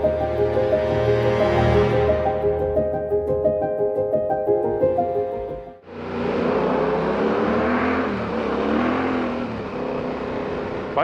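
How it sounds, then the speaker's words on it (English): A motorbike engine rumbles steadily on an old rail bed trail, loud and close, with a short dip before the engine surges back with a rougher, busier drone. "Bike sounds good in there though."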